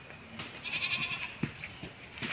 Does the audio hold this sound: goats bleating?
yes